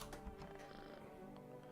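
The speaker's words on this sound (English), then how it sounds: "Pet the cat." A cat in the video game No, I'm Not Human purring as it is petted, a low steady rumble under continuous game music.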